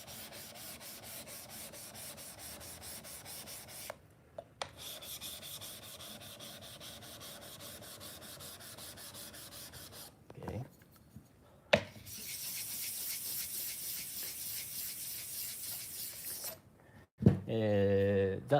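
A Japanese kanna plane blade being sharpened on a whetstone, long stretches of steady gritty rubbing strokes, with short breaks and a louder, harsher stretch toward the end; the rasping carries on alone.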